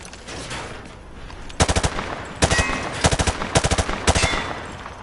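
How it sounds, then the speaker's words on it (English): Automatic gunfire from Modern Warfare 2, sprayed from the hip at targets on a firing range: several loud, rapid bursts in quick succession, each a tight cluster of sharp shots with short pauses between. "He sprayed bullets all over the damn place"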